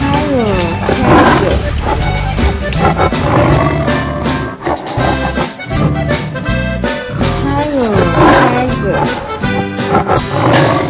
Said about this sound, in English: Tiger. Tiger.